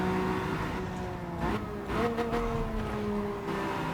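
Race car engine in Gran Turismo 7 running stock down the Corkscrew, with a steady loud drone that rises in pitch as it revs and shifts gears, continuous throughout with no talk.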